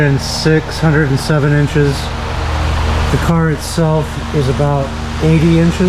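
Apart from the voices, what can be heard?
electric fan running in a garage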